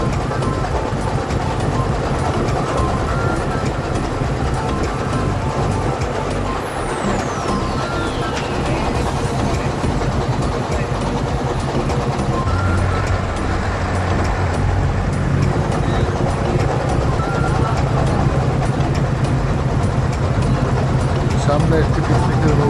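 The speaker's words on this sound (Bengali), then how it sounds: "আরও কিছু নৌকা আমাদের কাছ করে চলে যাচ্ছে।" Motor boats pass close by on a river with a steady loud engine drone and broad rushing noise, while people talk throughout.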